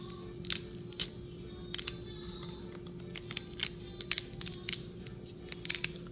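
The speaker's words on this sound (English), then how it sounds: "I'm simply cutting off the part that is getting rotten" A knife cuts away the rotten part of a celery stalk with a scattering of sharp, crisp snaps and crunches at irregular intervals over a steady low hum.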